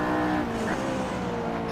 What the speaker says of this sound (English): Blue car coming through a faster section now